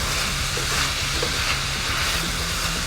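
Minced red onion frying in a pan, a steady close sizzle with light stirring scrapes.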